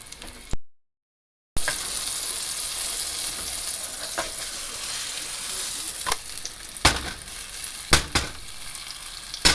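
Thick vegan pancake batter fries in a lot of oil in a pan, a steady close sizzle with a few brief clicks and scrapes and no talking.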